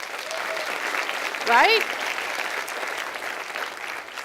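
Audience applause at a technology and social responsibility summit talk, a moderate, fairly distant wash of clapping, with a brief spoken word over it partway through.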